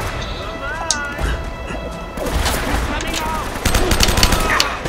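M4 rifle gunfire in the video game Uncharted: Drake's Fortune, loud sustained bursts and crashing impacts layered with dense game effects and music, growing heavier toward the end.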